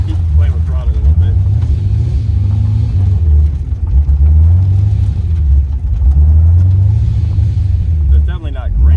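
A car engine with an alternator that is not charging, revved repeatedly as the throttle is worked, its loud rumble swelling and falling in a slow rhythm, with someone talking over it.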